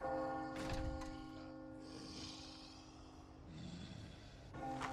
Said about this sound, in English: Bell of victory, baby!